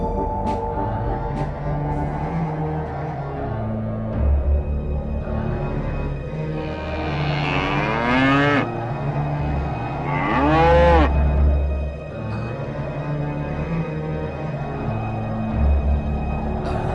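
A cow moos loudly in two long, drawn-out calls, with other animal sounds faint in the background and no talking.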